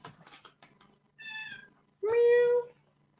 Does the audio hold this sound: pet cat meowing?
yes